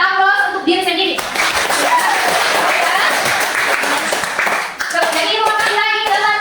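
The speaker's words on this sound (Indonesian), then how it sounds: "Kita aplaus untuk diri sendiri" A classroom group of children claps for themselves, a dense burst of hands that swells between a teacher's talk at the start and end, with young voices mixing into the clapping.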